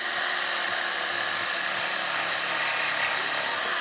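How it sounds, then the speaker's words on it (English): A torch roars in a steady, loud, close hiss while burning out old rubber subframe bushings on a Nissan S13, unbroken throughout with no talking. "so we are burning out the old subframe bushings"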